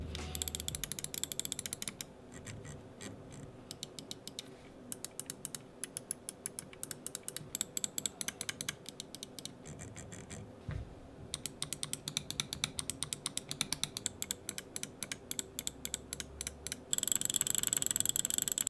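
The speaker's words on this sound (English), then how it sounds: "The clicks are pretty nice. Tactile but still easily spammable." Crisp, rapid mouse clicks from a Finalmouse Starlight 12 Phantom magnesium mouse, tactile with a slightly metallic ring, fired in dense runs and quick bursts of spam clicking, close and alone with no talking.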